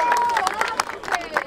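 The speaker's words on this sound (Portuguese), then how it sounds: "Palmas dos nossos patrocinadores" A crowd at an outdoor rap battle in Barueri, São Paulo, claps and cheers, producing dense, loud applause with sharp individual claps and shouts throughout.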